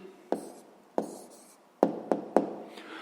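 A pen writes an answer on paper for a sixth-grade maths exercise, up close, with five sharp taps of the pen tip, each followed by a short scratchy stroke, no voice.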